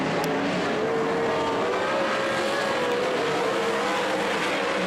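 Race cars on an oval track roar in a dense, continuous engine drone, a smooth rising and falling engine whine running throughout at steady loudness, with no voices.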